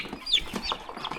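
Chicken clucking among backyard poultry kept alongside quail and turkeys, a few short high clucks and squawks at moderate volume with no talking over them.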